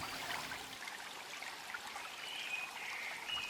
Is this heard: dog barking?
no